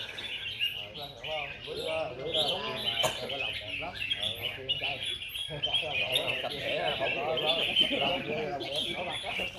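Red-whiskered bulbuls sing at a bird song competition in Bình Dương, Vietnam, a steady stream of bright, quick chirps and warbling phrases heard at moderate distance, with people talking underneath.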